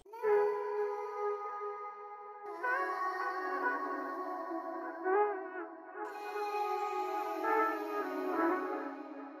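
Two vocal chop samples play together in an Afrobeats beat, airy sustained vocal chords with short wavering syllables fluttering over them, shifting chords every few seconds, smooth and spacious.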